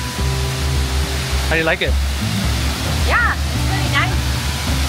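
Steady broadband rush of Kuang Si Falls waterfall in Laos, a continuous loud roar of cascading water throughout, with people talking over it.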